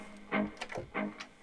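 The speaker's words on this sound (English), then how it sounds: "I'm doing a delay on this sound" Guitar through a delay effect on a Boss GX-10 processor, distorted notes played softly and repeating as rhythmic echoes that fade between plucks.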